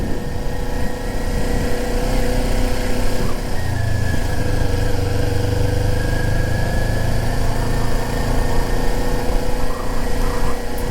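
A sport bike engine runs steadily while riding over small road bumps, a loud continuous mid-pitched drone with wind rumble and slight shifts in engine tone.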